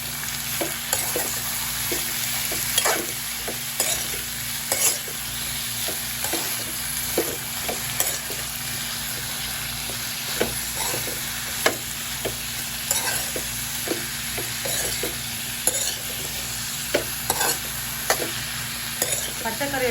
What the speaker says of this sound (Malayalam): പച്ചക്കറിയുടെ എല്ലാ ഭാഗത്തും വെളിച്ചെണ്ണ പിടിക്കുന്ന വിധം ഇളക്കി കൊടുക്കാം.